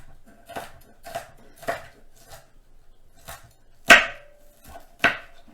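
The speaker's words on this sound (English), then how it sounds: "I'll just chop them up really good." Bacon slices being minced with a knife for a burger: a series of crisp, irregular chops on a cutting board, close and fairly loud, with two sharper strikes near the end.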